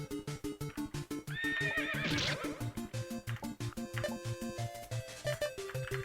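A whinnying horse neighs from a Castlevania-style game, a rising synthetic cry in the middle of the clip over a pulsing, loud chiptune backing track with steady percussive beats throughout.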